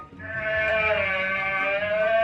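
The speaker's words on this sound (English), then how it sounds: "An alpaca." An alpaca call plays as a sound effect in a guessing game, a sustained nasal, harmonic cry that holds steady for about two seconds, fairly loud and close with no talk over it.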